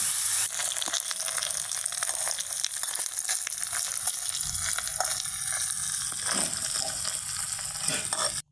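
Whole spices such as bay leaf, white cardamom and clove fry in butter for a biryani, a steady close hiss with stirring scrapes throughout.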